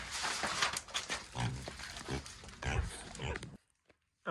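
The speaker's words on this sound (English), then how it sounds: "Come on, piggies." Pigs grunt and snuffle close by in a busy run of short, rough bursts, mixed with movement and a person's voice. The sound cuts off abruptly near the end.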